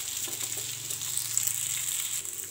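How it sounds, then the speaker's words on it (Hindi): Food frying over a medium flame, a steady bright hiss with a low hum beneath it, close and even throughout the short stretch. "मीडियम फ्लेम रे फ्राई करिबा"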